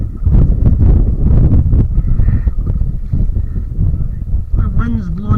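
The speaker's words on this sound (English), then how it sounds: "The wind's blowing me back." Strong wind buffets the microphone on the River Clyde near Glasgow Airport while a paddler sits in a 14–15 ft Dagger Charleston sea kayak, a loud continuous low roar with a brief watery splash near the end.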